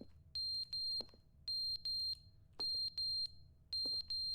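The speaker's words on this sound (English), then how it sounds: "What's beeping? Is it you? Sounds like it's you. I think it's that. Is that a fire alarm?" A beeping alarm in the video game The Stanley Parable: Ultra Deluxe sounds repeated paired high electronic beeps in a steady rhythm, clear and fairly loud over a low background hum, with no talking.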